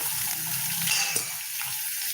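Garlic sizzles steadily in a hot pan, a continuous bright frying hiss with a faint clink of a utensil stirring partway through.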